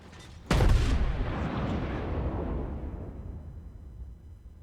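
A single heavy salvo from the USS Texas battleship's main guns in World of Warships, a loud, sharp blast followed by a long, fading rumble.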